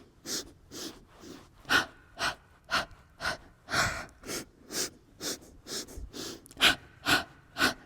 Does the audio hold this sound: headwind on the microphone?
no